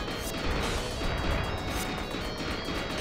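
Shotgun blasts in the game Highway To The Moon, a dense run of loud crashing, whacking bursts over steady noisy game sound, with no talking.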